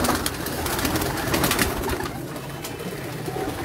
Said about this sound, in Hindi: ये मेरे जी कांटों वाले कबूतर हैं